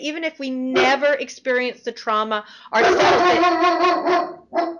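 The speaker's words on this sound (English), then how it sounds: "That's my dog trying to be part of the show." A pet dog barks and yips intermittently in a home during an interview, its short bursts rising through continuous close speech and audible mainly in the second half.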